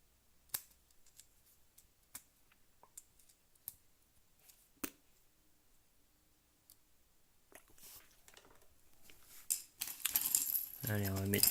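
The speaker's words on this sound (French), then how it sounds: "Donc déballage des petites brossettes." Oral-B Oxyjet brush heads are unpacked, with sharp isolated clicks and plastic snaps spaced apart in a quiet room, followed by denser crinkling and rustling of packaging that grows louder toward the end.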